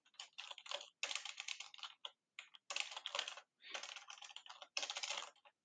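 Steady bursts of keyboard typing while writing Rust code on a computer, fast clustered keystrokes in about five runs separated by short pauses, close and clear with no talking.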